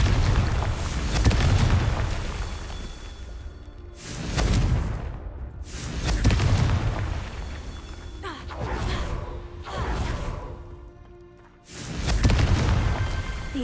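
Blasting spells go off in Hogwarts Legacy, a series of about five deep booming explosions, each with a rushing whoosh and a rumbling tail, loud and close with no talk.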